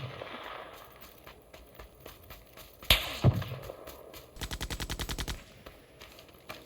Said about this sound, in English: he's going to pin me down with that MG3